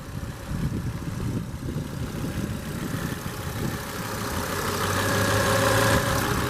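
A 2007 Volvo S40 T5 AWD's 2.5-liter turbocharged five-cylinder idles steadily, a low rumbling hum that swells slightly toward the end, recorded nearby without talk.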